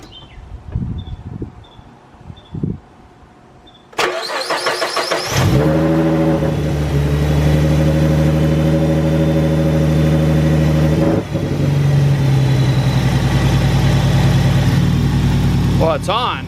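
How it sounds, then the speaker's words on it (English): A Ford Mustang 3.7 V6 fitted with a GT500 throttle body cranks and fires up loudly, then settles into a steady, close idle with a strong low harmonic drone. Brief talk and clatter come before it. "But let's go start this thing up. Let's hear the GT500 V6 run again."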